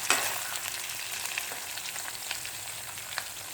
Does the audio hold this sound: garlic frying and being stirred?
yes